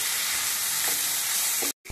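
Ground spice masala of cumin, coriander and chilli powder frying in hot oil, a loud continuous sizzle with stirring, cut by a brief break near the end before the sizzle resumes.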